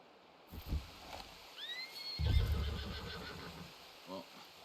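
A horse neighs in the Red Dead Redemption 2 video game, a clear rising whinny in the open with hoof clops and a snort nearby, while voices talk quietly underneath.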